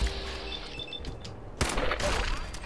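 A sudden loud burst of gunfire in Fallout 4 erupts midway, following a quieter stretch of game ambience with faint tonal chirps.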